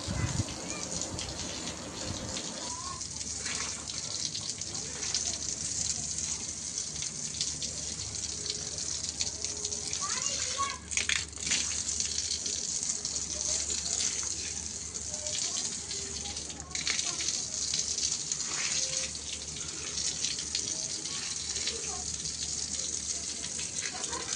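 Water runs steadily while household items are washed clean at home, a continuous broadband gush like a tap or sink with small clatters and splashes, close and constant throughout.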